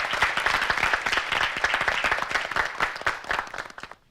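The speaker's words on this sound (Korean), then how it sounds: "박수로 맞이해 주시죠." Audience applause at a Korean high school debate competition, steady dense clapping across the hall that holds loud throughout and fades out at the end, with no talking.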